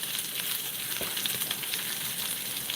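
Steak frying on a stovetop pan, a steady broadband sizzle with faint crackles running unbroken throughout, fairly quiet and close, no talking.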